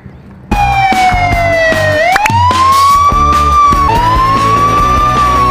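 A red toy police jeep sounds its electronic siren, a loud wailing tone that sweeps up and down, layered with a beeping melody and rhythmic electronic pulses, playing continuously up close.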